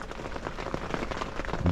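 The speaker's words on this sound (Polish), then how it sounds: "No niestety, dalej pada." Steady rain patters on a tent during a storm in Peñíscola, a dense, even hiss of drops drumming on the fabric close overhead for a short moment.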